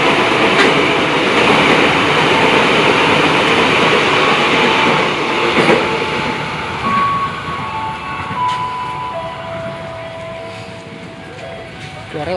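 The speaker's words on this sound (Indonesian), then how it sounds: "Nah, nunggu kereta bandara tuh yang melintas tuh." Airport train on the Jakarta commuter line passing by, a loud continuous rumble and roar near at hand that gradually fades, with faint tonal squeals and beeps toward the end.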